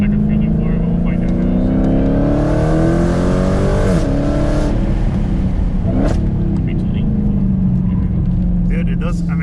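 A Dodge Hellcat accelerating on a track, its engine droning loudly and rising and falling in pitch through gear changes and turns, heard from inside with people talking over it.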